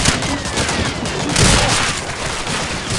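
Dense, continuous gunfire in Medal of Honor: Allied Assault, a loud, unbroken wall of rapid machine gun bursts and booms filling the scene.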